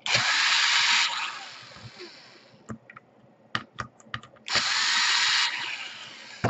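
A power screwdriver removes screws from the underside of an Asus G53SW laptop: two loud, sustained whirring runs at start and end, with sharp clicks and light handling taps in between.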